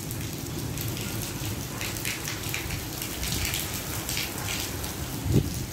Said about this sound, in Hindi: देखें कितनी प्यारी बारिश हो रही है ना